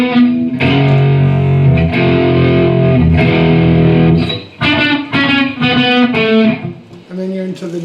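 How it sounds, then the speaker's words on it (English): Loud, distorted electric guitar plays a turnaround after the sax solo in the song, a sustained chordal riff followed by choppy rhythmic stabs, with no talking. "You'll hear the guitar come in. It's kind of almost like a turnaround"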